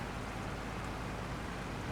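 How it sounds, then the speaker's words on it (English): Steady rain in the farming video game Farming Simulator 22 during a grape harvest, a constant dense hiss of falling drops with no talk over it. "look at the rain"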